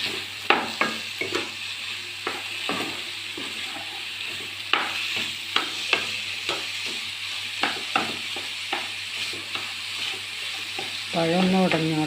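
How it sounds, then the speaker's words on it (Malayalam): A spoon stirs a banana and rava mixture in a hot pan, a steady sizzle under repeated sharp scrapes and clinks, with a rougher scraping burst near the end. "എല്ലാം കൂടി മിക്സ് ചെയ്യുക"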